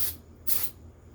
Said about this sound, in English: I know that compressor is loud